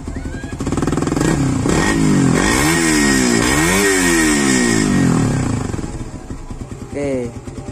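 A Suzuki Satria FU Fi motorcycle with an aftermarket SCD exhaust revs up and down several times in quick rising and falling sweeps, loud and close with a throaty exhaust, then drops to idle.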